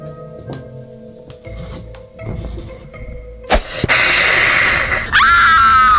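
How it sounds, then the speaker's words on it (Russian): A person screaming: shrill, sustained high-pitched cries in the last couple of seconds, loud and close, after quieter rustling, thuds and a sharp gasp-like burst. "Кто это кричит?"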